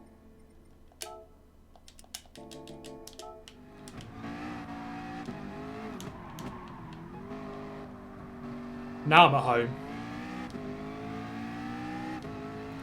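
McLaren race car engine in Gran Turismo Sport, a steady droning engine tone with rising and falling pitch as it accelerates and shifts, heard under someone talking and with a brief louder burst partway through.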